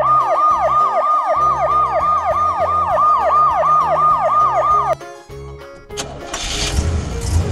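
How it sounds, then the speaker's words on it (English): A police car siren wails in a fast, repeating yelp over background music, loud and close, then cuts off around five seconds as a burst of broadband noise takes over. "Black. Police car."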